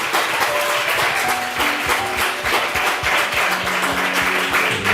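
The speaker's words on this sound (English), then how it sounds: "Please clap for Samuel." Students clapping for a debate participant at a secondary school competition, an uneven burst of many hands with tonal background sounds and murmuring voices mixed in.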